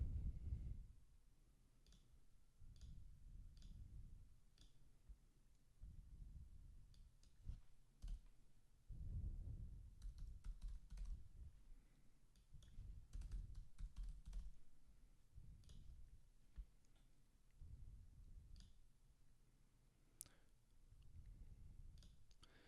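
Computer keyboard keys tapped in irregular bursts while a password is entered, the clicks close and fairly quiet, with brief pauses between runs of typing.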